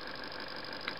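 A small reed switch motor runs on a 1.2 volt battery, giving a steady, faint mechanical hum with a fine rapid ticking and one brief brighter click near the end, no voices.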